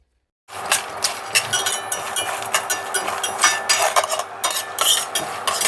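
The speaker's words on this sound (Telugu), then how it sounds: "అలాగే ఇప్పుడు జీడిపప్పు వేస్తున్నాను, అలాగే ధనియాలు కూడా వేసేస్తున్నాను. వీటిని వేయించుదాం." Cashews and coriander seeds are dry-roasted in a pan with a spoon stirring them, making repeated scraping and rattling strokes that sound close and busy after a short silence at the start.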